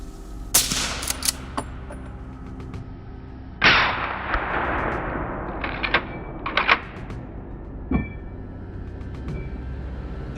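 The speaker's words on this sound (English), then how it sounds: "The gunshot sends the sounder scattering" A gunshot cracks across an open farm field during a wild boar hunt, a sharp loud report followed by a second blast and a few fainter, more distant shots.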